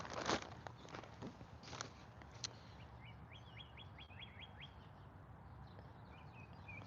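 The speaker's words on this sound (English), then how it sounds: "the birds are going crazy this morning" Small birds chirping outdoors in a morning garden, with a quick run of repeated high tweets in the middle, faint over background hum, following a few soft footsteps or rustling knocks near the start.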